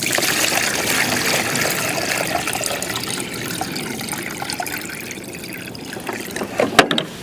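Rainwater poured from a container onto potting soil in a Greenstalk planter, a steady close trickle and splash running throughout, easing slightly midway, with a few louder splashes near the end.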